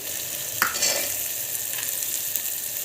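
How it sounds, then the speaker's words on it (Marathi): Soaked peas drop into a pan of spiced masala with chilli powder and turmeric, setting off a loud, continuous sizzle with a couple of faint clinks of a utensil. "आता भिजवलेले वाटाणे टाकूया आपण,"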